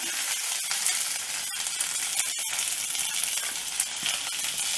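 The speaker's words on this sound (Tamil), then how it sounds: "நம்ம இந்த கிராம்பு, கசகசா, பட்டை, சோம்பு எல்லாத்தையும் போட்டுக்கலாம். பொரிய ஆரம்பிச்சிட்டு வெங்காயம்லாம் அதிலே போட்டுக்கலாம்." Whole spices, cloves, poppy seeds, cinnamon and fennel, crackle and sizzle in hot oil in a pan, a steady close frying hiss with a few sharp pops throughout.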